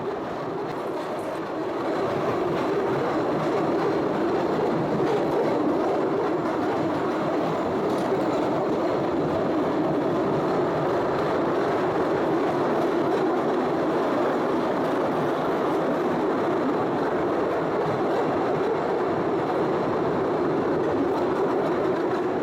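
The Postojna Cave tourist train rolls through the underground cave, giving a loud, constant rumbling roar with faint clatter that holds steady for over twenty seconds after a short quieter start.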